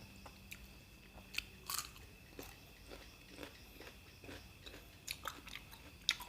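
Close, crisp crunching of fresh cucumber eaten with grilled pork neck salad, a series of irregular bites and chews, quiet and without talk.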